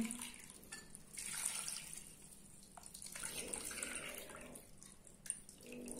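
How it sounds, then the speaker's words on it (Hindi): Water poured into a pressure cooker, a continuous splashing pour with slight changes in intensity, fairly close and with no talking. "दो कप मैंने पानी डाला है"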